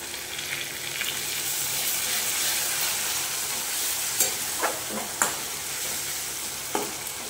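Chopped tomato fries with ginger garlic paste in a pan, a steady close sizzle broken by a few sharp spatula clacks and stirring scrapes near the end, with no talk.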